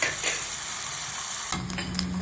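Onions for a sorrel leaves curry fry in a pan with a continuous close sizzle. Near the end a spoon scrapes and stirs, adding a few soft clicks over the frying.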